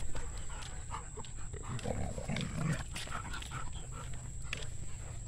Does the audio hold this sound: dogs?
yes